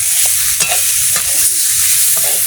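Ginger, cumin and chilli spices are stir-fried in hot oil in a pan, a loud continuous sizzle with repeated scraping strokes of a spatula close by, no talk.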